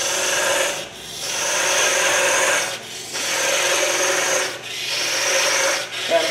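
A continuous rasping scrape of a parting tool cutting into spinning wood on a lathe, parting off a salt shaker, broken by three brief pauses, loud and close.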